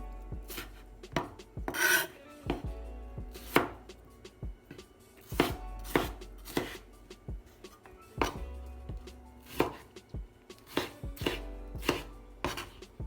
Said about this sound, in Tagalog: Ngayon, kailangan natin i-chop lang ang ating kamatis. Cut into cubes.